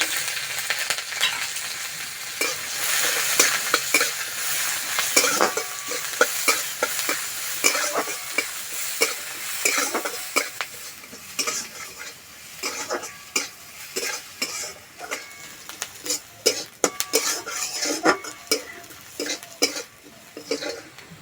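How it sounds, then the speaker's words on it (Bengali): Chopped onion sizzles in oil with whole cumin, dried and green chilli, garlic and ginger for an ash gourd chop filling, close up, with irregular scraping stirs and a steady hiss. "পেঁয়াজ হালকা লাল করে ভেজে নিয়েছি"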